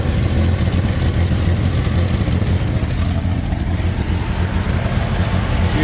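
An old Jeep CJ6 with about 5,700 original miles sits idling roughly, missing on at least one cylinder, its leaking exhaust adding a steady, loud, uneven rumble that chugs on without letup.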